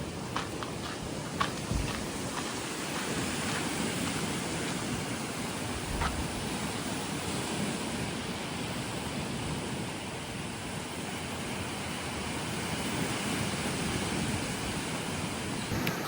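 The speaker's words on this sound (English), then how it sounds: "the ocean is a little choppy today" Choppy ocean surf rolls in a steady, broad wash of noise, moderately loud and continuous, with faint scattered ticks and no talk over it.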